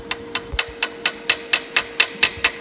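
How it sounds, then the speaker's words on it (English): A small hammer taps metal edges together to close up gaps, about a dozen crisp, evenly spaced metallic knocks, close and clear over a faint steady hum. "So we get our little hammer"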